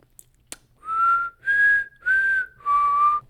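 A person whistles a short four-note tune from the Hunger Games mockingjay signal, each note clear and sustained with small pitch glides, close and alone with no talk.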